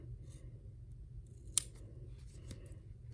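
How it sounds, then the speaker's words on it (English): Sharp scissors snip through embroidered fabric near the stitching, a single crisp cut standing out against a quiet background with a fainter follow-up snip. "I'm going to cut this right here"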